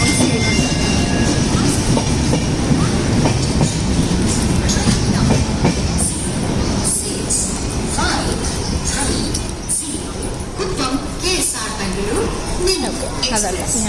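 A train arrives at a railway station with a loud, continuous rumble and rattle of rolling wagons and faint wheel squeal, close by, with voices mixed in throughout.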